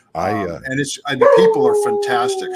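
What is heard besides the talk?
dog howling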